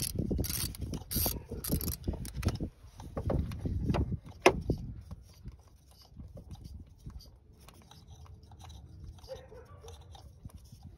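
A 10 mm socket on a swivel works bolts loose on a 2001 Lexus LS430, close ratcheting clicks and metallic crunching bursts that fade into quieter, intermittent tool noise.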